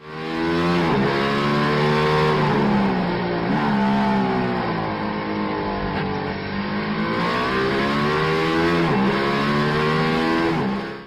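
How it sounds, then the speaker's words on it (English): The Mercedes-AMG One hypercar engine revs hard, a loud, sustained, buzzing roar that rises and falls in pitch through several sweeps, heard close and alone. "Mercedes-AMG 1."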